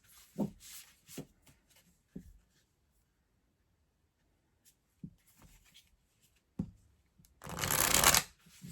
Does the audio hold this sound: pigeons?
no